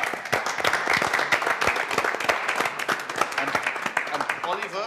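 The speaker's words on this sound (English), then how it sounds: "a round of applause for all your guests so far" A studio audience at a football talk show claps briskly and densely, a close, lively burst of many hands sustained evenly across the stretch.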